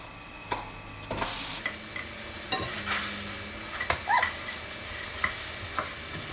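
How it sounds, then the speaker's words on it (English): French toast frying in a pan, a soft steady sizzle broken by sharp clicks and scrapes of a spatula and pan, fairly close and quiet. "I'm just going to flip the French toast over."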